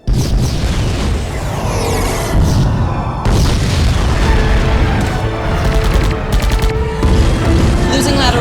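Torpedo explosions in a sci-fi war film: loud, continuous booming blasts and rumbling detonations fill the scene, layered with whooshes and crackling debris.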